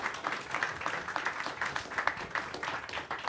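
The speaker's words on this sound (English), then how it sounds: "I'd hate to say please clap," Scattered audience applause at an event, a steady wash of clapping at moderate level with no clear talk over it.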